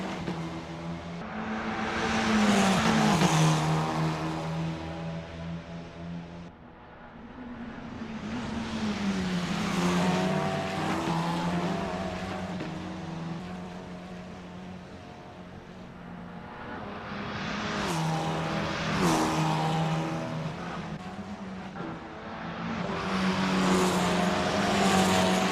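Formula 4 race car in Assetto Corsa lapping Bathurst on a practice out lap, its engine note repeatedly climbing through the gears, dropping on shifts and braking, then climbing again, loud and steady throughout.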